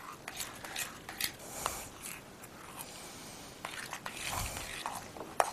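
A utensil clinks and scrapes against a bowl while a batter-like mixture is stirred to work out lumps, light irregular taps and scrapes, quiet and close.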